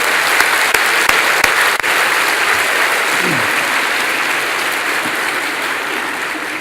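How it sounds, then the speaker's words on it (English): Steady, loud audience applause at a furniture-store-sponsored teacher appreciation event, a dense wash of many hands clapping throughout with no talk over it. "Let's give a round of applause, not only to Sam's Furniture, but to all of our sponsors that made this a great event."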